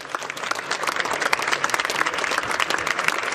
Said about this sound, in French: les dirigeants applaudissent